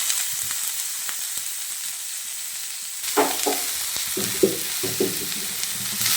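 Cabbage upperi stir-frying in a pan, heard as a steady close sizzle with intermittent scraping and knocking stir strokes in the second half.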